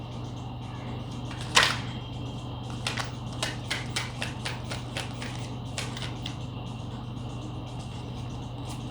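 Tarot cards are shuffled close to the microphone: one sharp riffle burst, then a rapid run of light card snaps and taps over a steady electrical hum.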